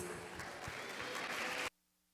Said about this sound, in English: let's give a round of applause for all these wonderful students today